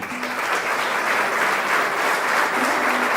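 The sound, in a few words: congregation applauding a saint's relic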